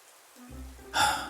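Rain falling: a quiet low hum, then a sudden close rush of broadband hiss that keeps pouring steadily to the end.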